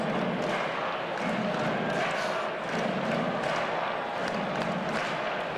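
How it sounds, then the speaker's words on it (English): A loud crowd roars steadily through a 1994 Pirates versus Phillies baseball game at the stadium, a dense, continuous wash of voices and cheering with no clear breaks. "Loud crowd here tonight."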